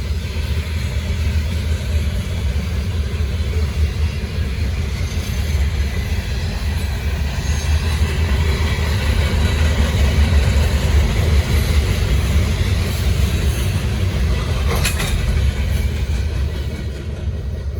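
A Norfolk Southern freight train rolls past at close range on the Charlotte District, a steady heavy rumble and rail roar holding for the whole stretch, with a brief sharp squeal of wheels partway through.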